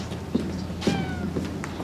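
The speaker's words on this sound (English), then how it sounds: "that cat of Peter's crying all the way" Cat meowing during a staged high-school drama performance, a couple of short, fairly faint mews over a steady room hum, with some light footsteps or movement on the stage.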